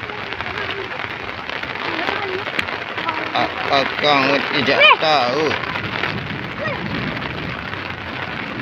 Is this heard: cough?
no